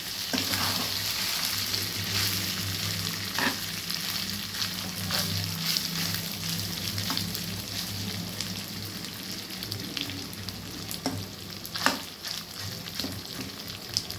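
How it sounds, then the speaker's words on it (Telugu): Mutton fries in a pan with a continuous crackling sizzle, joined by occasional stirring clinks and scrapes, fairly close and steady with no talk. "మటన్ సూప్ను మటన్ ఫ్రై చేస్తున్నాం ఫ్రెండ్స్ ఈరోజు।"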